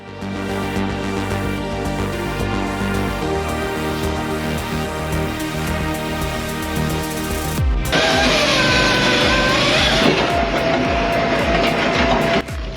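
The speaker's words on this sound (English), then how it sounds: "Logs slam down, the saw bites clean, and the splitter rips them apart in seconds." A large firewood processor saws and splits logs, a dense, loud mechanical roar with steady engine drone and tonal whine, then an abrupt shift near the middle into harsher, brighter cutting and splitting noise that continues to the end.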